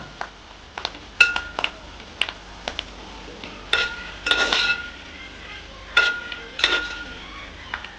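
Kerala-style tuna pickle is stirred and scooped in a cooking pan, giving irregular sharp metallic clinks and scrapes of a spoon against the pan, some in quick clusters, close by.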